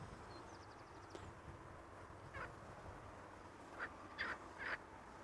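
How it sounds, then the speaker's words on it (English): A frog croaks near Amsterdam Schiphol Airport, giving a few short, faint croaks toward the end over a steady low outdoor hum. "That sounds like a frog, but those are really hard to spot."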